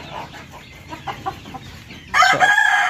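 Sonali chickens on a poultry farm in Assam, soft scattered clucks followed by a loud close rooster crow that fills the last second.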